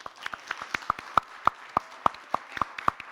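Sparse, scattered hand claps ring out at an uneven rhythm, a small group applauding fairly faintly at a student election presidential debate, with no talk over it.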